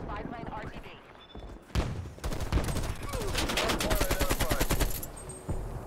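AK-47 fire in Call of Duty: Cold War, a short burst followed by sustained rapid automatic shots with crisp repeated cracks, loud and close, while someone talks over the gunfire.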